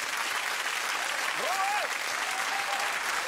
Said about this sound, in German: Das Volk soll aufhören zu klatschen!